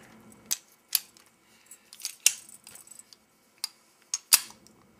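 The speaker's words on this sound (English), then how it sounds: "next we put the slide stop lever in, push it into its place" A slide stop lever is pushed into place on a Ruger SR1911CMD pistol during reassembly, giving a series of sharp, close metallic clicks and snaps spaced irregularly, with faint handling noise between them.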